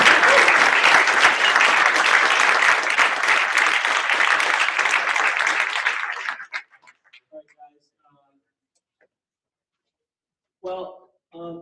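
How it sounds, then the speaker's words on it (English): Loud, sustained audience applause for a presenter after a talk on iOS link handling fills about six seconds, then tapers off into a quiet room, with a voice briefly speaking near the end. "All right, let's give him a applause."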